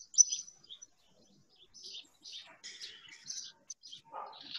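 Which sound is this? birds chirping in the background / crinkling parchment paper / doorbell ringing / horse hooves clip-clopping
birds chirping in the background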